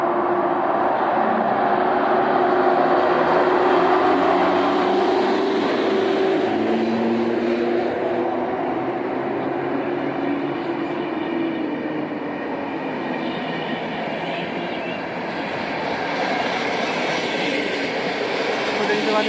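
A train passes through Rawicz station, a continuous loud rolling rumble with a grinding, humming undertone that holds steady for about twenty seconds and eases slightly midway, heard from nearby on the platform.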